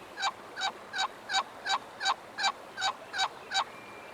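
A handheld turkey call imitates a hen turkey's yelp in a series of ten evenly spaced, clear bursts, heard up close against a quiet outdoor background.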